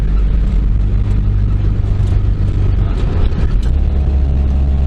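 A Honda Acty mini truck's small engine drones steadily while driving, a loud continuous low rumble with road noise and no talking.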